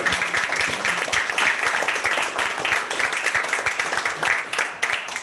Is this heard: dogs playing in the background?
no